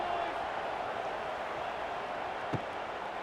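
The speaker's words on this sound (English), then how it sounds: "this crowd is buzzing after that last score" A steady, dense stadium crowd murmurs and buzzes at a college football game between Eastern Michigan and Buffalo in College Football 26, a continuous wash of distant voices with one brief sharp spike near the end.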